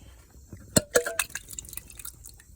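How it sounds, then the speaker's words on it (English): Broth from a can of chicken noodle soup drains off in a few sharp splashing drips and trickles, close and fairly quiet, with no talking. "We're just going to drain this can right here. Then just pour the noodles off in there."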